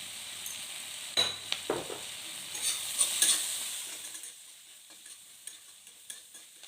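Chili powder and onions fry in oil for a sweet potato dish, a faint soft sizzle under sharp spoon scrapes and clinks against the pan that fade out toward the end.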